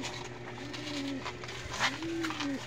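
Pigeons coo softly nearby, two drawn-out rising-and-falling calls over a quiet outdoor background.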